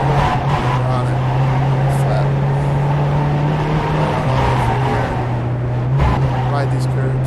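A VW Jetta TDI race car in the iRacing game holds full throttle at VIR, a loud, continuous steady engine drone with a slight pitch dip midway, while someone talks over it.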